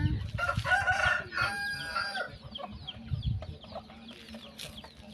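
Chickens and a rooster at an evening feeding on a farm, a loud crow near the start followed by repeated clucking and calls from several birds close by.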